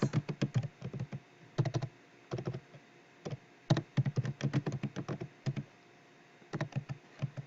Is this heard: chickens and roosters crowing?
no